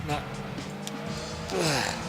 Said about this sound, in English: luckily this car slides enough around that I can get around these corners a little bit quicker